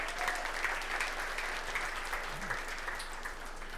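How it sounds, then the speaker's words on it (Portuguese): Church audience applause at a Baptist conference workshop, a steady wash of clapping from a crowd that holds evenly for a few seconds with no talk over it. "E uma salva de palmas para Jesus aí."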